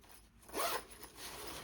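A small zipper pouch on a backpack being zipped in one quick pull, close and clear, with a few faint rustles of fabric before and after.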